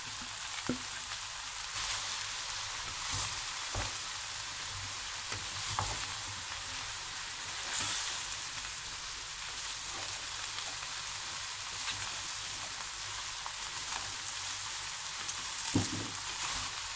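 Mushrooms and garlic frying in an overfilled pan give a loud, steady, hissing sizzle, with scattered small pops and crackles throughout and no voices.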